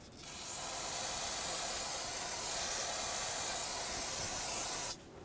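Brake parts cleaner sprays in one continuous, close hiss lasting several seconds, used to clean fluid spillage during a brake master cylinder replacement on a 2007-2014 Chevrolet Silverado 2500 HD, then cuts off abruptly.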